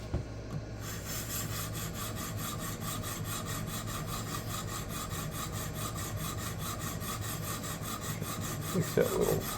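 Eafengrow EF11 knife blade being sharpened on a Xarlik Gen 2 diamond plate, a continuous gritty scraping rasp with quick regular back-and-forth strokes, close and steady, with no voices.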